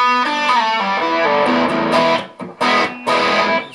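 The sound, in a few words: electric guitar through distorted tube amp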